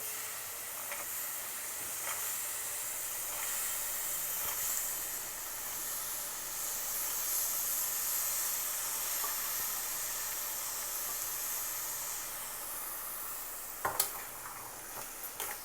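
Rajma beans dropped into a hot pan over a medium flame for rajma masala sizzle with a steady, close hiss throughout, ending in a few louder clatters of utensils and no voices.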